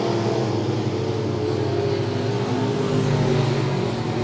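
Midwest Modified race cars racing in a heat at Monett Motor Speedway, loud continuous engine roar with a slight swell near the end, no voices heard.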